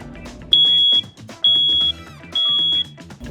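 Three loud, sustained high-pitched electronic beeps from a smoke alarm, each lasting about half a second, separated by short gaps over background noise.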